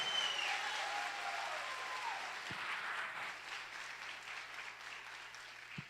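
Steady applause from a church congregation, a dense wash of clapping that holds at an even level throughout, with no voices standing out.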